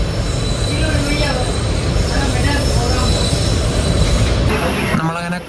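A train of BCN covered wagons near Kanjikode railway station gives a loud, continuous rolling rumble with high wheel squeals. It fades and eases toward the end.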